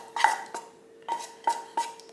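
Lardons tipped into a pan with shallot for a courgette quiche, giving a few short clattering, sizzling bursts separated by quiet gaps, close and moderately loud.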